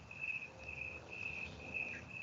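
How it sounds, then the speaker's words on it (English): Crickets chirp steadily at night, a faint, high, pulsing trill repeating in even bursts against quiet background hiss, with no talking. "I hear the crickets chirping behind you."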